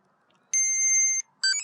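EXITOOL cordless electric pruning shears give their power-on signal: a sustained electronic tone followed by a shorter second beep, clear and close in an otherwise quiet setting.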